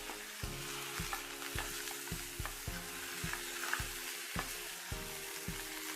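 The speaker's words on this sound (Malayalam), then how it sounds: "നന്നായിട്ട് ഈ മട്ടനും മസാലയും കൂടി യോജിപ്പിക്കണം" Half-cooked mutton is stirred into frying masala in a pan, with a soft continuous sizzle and repeated scraping knocks of the spoon at an uneven rhythm, fairly quiet and with no voices.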